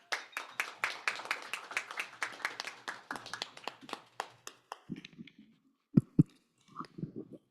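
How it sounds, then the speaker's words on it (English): Applause breaks out to welcome panelists at a global policy dialogue, a dense run of claps for about five seconds that then thins to a few scattered claps, with faint sounds of people settling afterward. "please join me in welcoming them with a warm and round of applause"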